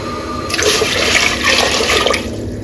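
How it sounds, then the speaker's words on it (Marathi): Water pours into a pressure cooker in a steady, loud gush for about a second and a half, then stops, leaving a faint background hum. "मी कुकरमध्ये चार कप पाणी घालत आहे"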